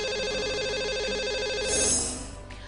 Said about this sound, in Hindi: प्राणु इस समय हमारे साथ फोन लाइन पर भी जुड़ चुके हैं